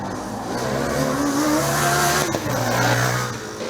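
A Padova Formula Student race car blasts past at a Formula Student Germany endurance session, its engine note loud and close, rising and falling in pitch with revs before fading slightly.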